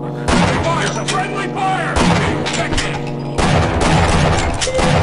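Loud gunfire in the Half-Life: Opposing Force video game, three sustained bursts of booming shots, dense and close.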